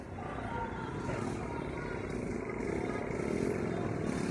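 A large motorcycle rally in Pokhara, Nepal, where thousands gather; a dense, continuous roar of many engines fills the street, with crowd noise and voices mixed in throughout.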